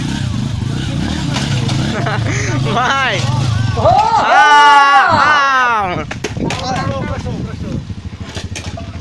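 A heavy trail motorcycle engine revs loudly close by, rising and falling in pitch, with people shouting and talking over it.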